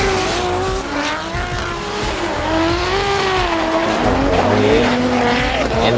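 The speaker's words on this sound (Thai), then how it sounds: "นี่เป็นกล้องจากด้านบนรถของดีเจเดย์นะฮะ ปล่อยออกมาแล้วฮะ" Onboard sound from a race car at speed on a circuit: a loud, continuous high-revving engine whine rising and falling through gear changes, with some tire squeal, steady and close throughout.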